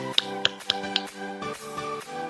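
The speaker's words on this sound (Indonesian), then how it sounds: "Tepuk 5 jari" Children clapping with five fingers, four sharp claps in a quick steady rhythm, then softer ones, with sustained musical tones running underneath.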